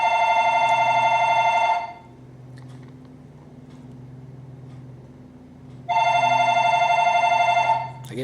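A telephone rings in a physics lecture classroom, two long electronic bursts separated by a few seconds of quiet room tone.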